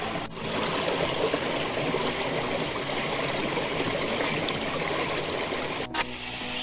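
Constant rushing water splashes and gurgles steadily over rocks at Chakratirtha waterfall in Keonjhar, Odisha, with a couple of brief clicks.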